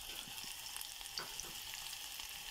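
Onion and garlic frying in a hot pan, a steady bright sizzle that fills the clip with small pops and the occasional stir, close and continuous with no talk.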